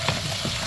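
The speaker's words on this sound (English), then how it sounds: "Stir in the spices" Spices are stirred into potatoes frying in oil, with a constant close sizzle and brief scrapes of the stirring utensil against the pan.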